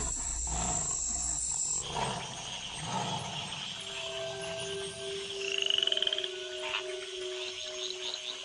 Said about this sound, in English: the tree frogs gather for bouts of communal cuckling.